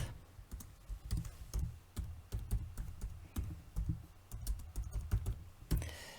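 Typing on a computer keyboard, irregular bursts of close key clicks and clacks continuing steadily for several seconds with no talking.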